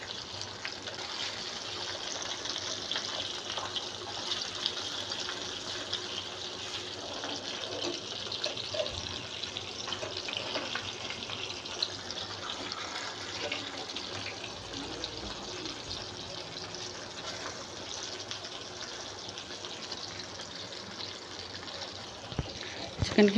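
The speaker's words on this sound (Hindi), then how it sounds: "यहाँ पे चिकन को फ्राई होते हुए तकरीबन 5 मिनट हो चुके हैं।" Chicken steak frying in a pan with a steady, dense sizzle that holds at an even level throughout, close and continuous, with no talk over it.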